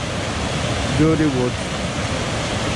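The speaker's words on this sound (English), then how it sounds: "This is the waterfall here" A woodland waterfall on the Royds Beck roars as a steady, loud broadband rush that fills the whole clip, with a brief voice speaking faintly over it midway.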